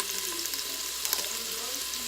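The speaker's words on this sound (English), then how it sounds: "So it's definitely doing a crisp on the outside. So it's frying." Vaca frita, shredded beef with lime, fries in a pan with a steady, close crackling sizzle that holds throughout without a break and with no talking.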